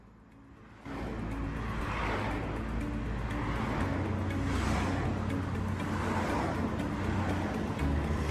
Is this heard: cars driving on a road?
yes